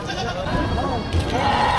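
Goats bleat at a livestock auction in Padre Garcia, Batangas, with wavering calls rising over a busy backdrop of chatter and crowd noise.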